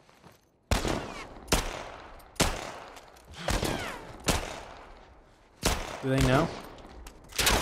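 Gunshots in the video game The Last of Us Part 1: about seven sharp, loud reports spaced unevenly, each with a short decaying tail, with a player speaking briefly between them.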